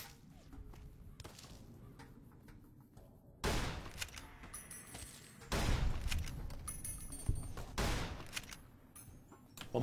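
Rapid gunshots in a video game ring out in sharp bursts, with a sparse stretch early on, then heavier volleys of overlapping shots from about three seconds onward, loud and close.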